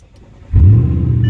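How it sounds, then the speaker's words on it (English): A salvaged, accident-damaged Audi RS7 with straight pipes and no muffler cranks and fires up, jumping from near silence into a loud, deep, rumbling idle that holds steady close by. "That is a straight piped RS7. There is no muffler whatsoever in this bad boy."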